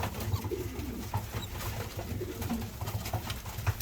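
Pigeons coo steadily in a loft housing young birds at the age of dropping their first flight feathers, low throaty calls repeating over a busy background of rustling and shuffling.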